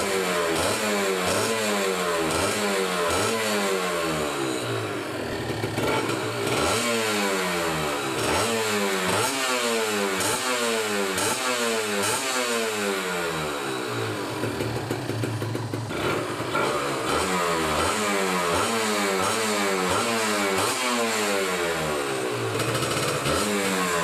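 A 2012 Kawasaki Ninja 150 RR two-stroke motorcycle with the choke closed, revved repeatedly up and down from close range, a loud, rasping engine rising and falling in steady bursts throughout.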